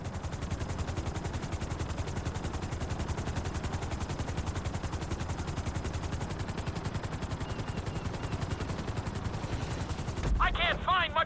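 A Grand Theft Auto V helicopter setting down on a helipad, its rotor chopping fast and steady. Near the end the rotor noise cuts out and a short burst of voice follows.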